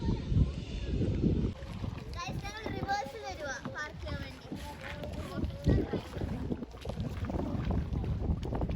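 Wind rushes and buffets a microphone outdoors on a hilltop at Vagamon, steady and loud, while people talk over it.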